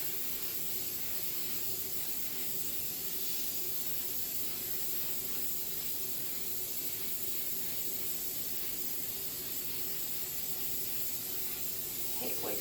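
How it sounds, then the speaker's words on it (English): A continuous aerosol spray of clear acrylic sealer hissing steadily for several seconds over a diamond painting canvas, close and even, with no talking. "shake your clear acrylic sealer, your Mod Podge, and you just begin to spray"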